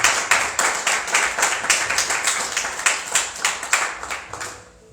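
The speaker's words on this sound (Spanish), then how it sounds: "Démosle un aplauso a Cristo." A church congregation applauds in a steady wave of clapping, fairly loud and sustained for several seconds before tapering off quickly at the end.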